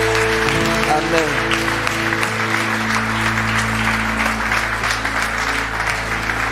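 A church congregation at a conference session applauds, a dense continuous clapping crowd, with a voice and a sustained musical chord heard over it.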